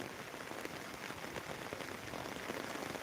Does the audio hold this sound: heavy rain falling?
yes